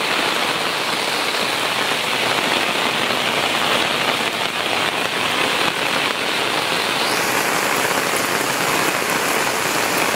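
Heavy, steady downpour of monsoon-style rain drums on surfaces nearby, a dense continuous hiss filling the whole stretch without pause, loud and close, with no voices heard.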